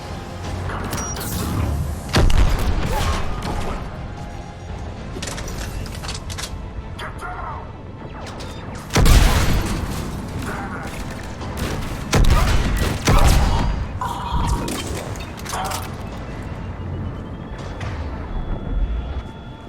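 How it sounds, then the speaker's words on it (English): Heavy cannon fire in a sci-fi video game, booming thuds and mechanical clanks at irregular intervals over a constant rumbling backdrop, with some louder blasts standing out. "Those cannons have to be stopped."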